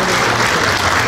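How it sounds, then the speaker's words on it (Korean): A banquet-hall crowd at a Korean church awards ceremony claps loudly and continuously to congratulate a recipient, a thick close burst of applause. "큰 박수로 축하해주시기 바라겠습니다."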